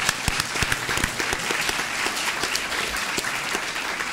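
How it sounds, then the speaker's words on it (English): An audience at a university speaker-series talk gives a sparse, thin round of applause, with scattered individual claps continuing steadily for a few seconds without any voices. "That was the worst smattering of applause I've ever heard."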